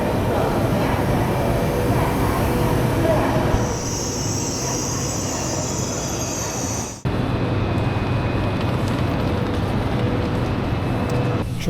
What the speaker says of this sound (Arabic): قطر الطلقة 300 كيلومتر في الساعة.